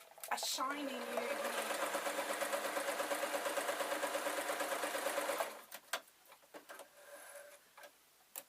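A sewing machine fitted with a new needle stitches a velvet cloak with a fast, even, rhythmic chatter for about five seconds, then stops, leaving a few scattered handling knocks and bumps.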